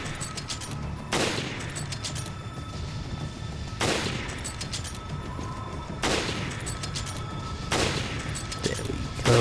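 Four loud, spaced sniper rifle shots from Resident Evil Revelations Abyss Raid Mode, each a sharp full-range crack with a short decaying tail, over a steady bed of game ambience and noise.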